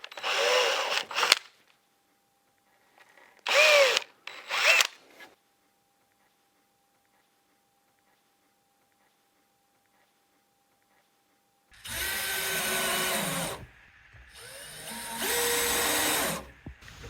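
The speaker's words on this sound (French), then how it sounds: "Pré-percez au croisement de ces deux axes à l'aide de la mèche de 2 mm." A power drill with a 2 mm bit pre-drills holes while a plastic compost bin is assembled, heard as short whining bursts early on, then two longer steady runs near the end, separated by silence.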